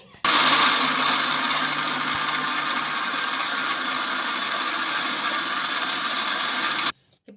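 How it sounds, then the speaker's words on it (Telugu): A mixer grinder whirs loudly and steadily for about seven seconds blending ivy gourd dosa batter, then abruptly stops. "ఇప్పుడు మిక్సీ పట్టేసుకుందాం మెత్తగా నీళ్ళు అనేది చూసుకొని వేసుకోండి"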